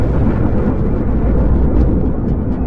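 A massive, sustained roar of low rumbling noise depicting the huge explosion that formed the Sun, loud and dense throughout, like a huge blast echoing without letup.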